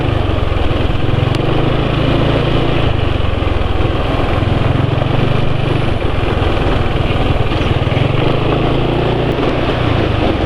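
Engine running on oil with an olive pomace additive, a continuous loud droning rumble with steady low hum and broadband mechanical noise, close and unchanging throughout, no talking.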